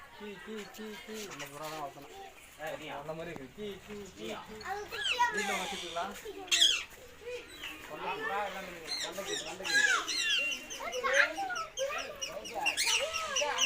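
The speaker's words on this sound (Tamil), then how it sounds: "பறவைகள் வந்து சத்தம் போடுறதுனால நான் வாய்ஸ் கொடுக்கல அது முல்லாம் நீங்களே கேளுங்க" Many birds chirp, squawk and call over each other at close range in a zoo aviary, a busy overlapping chorus with bursts of sharper cries.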